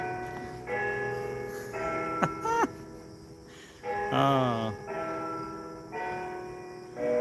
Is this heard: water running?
no